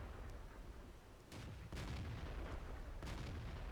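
A KV-2 heavy tank's howitzer booms in World of Tanks, heavy blasts at close range landing roughly a second apart and again after a pause, each with a rumbling tail over steady engine drone.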